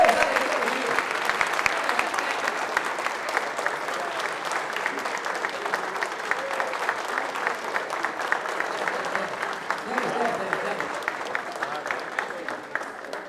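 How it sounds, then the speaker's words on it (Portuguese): An audience at a Partido Novo political gathering in Uberlândia gives a sustained round of applause, dense, even clapping that carries on loudly for over ten seconds with little change. "Uma salva de palmas para o nosso amigo"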